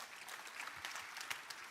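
Faint, steady applause from an audience at the commissioning of the AI UniPod at UNILAG follows a speech, a dense patter of many hands heard at a distance with no voices over it.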